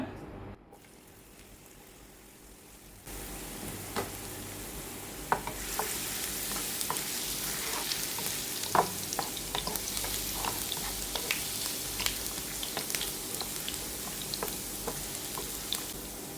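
Ginger drops into hot coconut oil for a dosa chutney after a quiet start, and a steady sizzle and crackle builds and carries on, with occasional sharp pops and stirring clicks.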